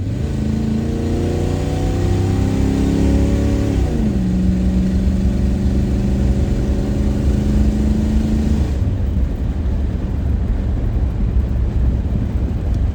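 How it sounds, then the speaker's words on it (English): A 1974 Dodge Monaco's engine revs hard on kickdown, exhaust rising in pitch through the gears, drops at a shift, then roars on steadily before easing off into a rumbling drone, echoing outdoors. "Love hearing that exhaust note echo through the wilderness and echo through anywhere"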